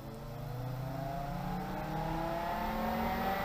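A Pentair SuperFlo pool pump running at 3000 RPM on 120 volts, a steady whirring motor hum with faint rising tones, constant and moderately quiet, with no talking.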